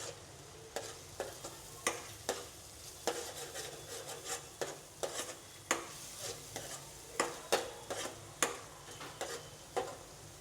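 Ginger garlic paste frying in a pan with regular scraping stirs, faint sizzling under a repeated series of sharp spatula strokes against the pan.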